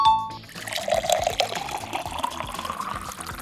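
Water is poured into the top of a homemade electricity-free fountain and splashes and trickles down through it, a steady close gurgling stream with small drips.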